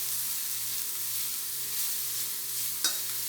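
Cardamom sautéing in a pan, a soft, steady sizzle with a faint hum underneath and one brief clink near the end.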